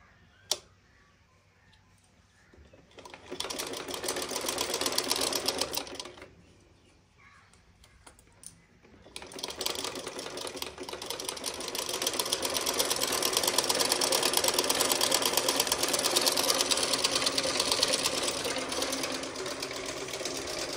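A home sewing machine, a gift with troublesome thread, runs in a village home. It whirs in a steady, rapid stitching rhythm through two runs separated by a short pause, with the second run long and continuous, and no talking.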